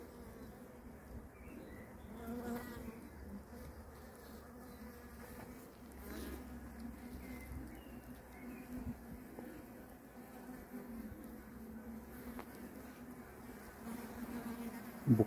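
Honeybees buzz in an open top-bar hive near a reservoir in May while a newly hatched queen runs across the comb, a soft, continuous droning hum with faint handling noises.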